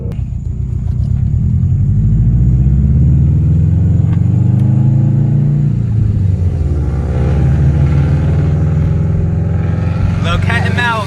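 A car pulls out and accelerates around a local race track, heard from inside the cabin as a loud, continuous engine drone whose pitch rises and settles with gear changes, with people talking over it.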